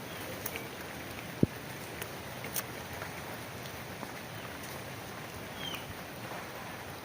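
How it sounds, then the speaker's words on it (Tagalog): A light drizzle falls outdoors after a storm as a steady, soft hiss with a few scattered nearby drops and taps. The patter stays even throughout, with no voices. "Nakakabasa pa rin yung ambon"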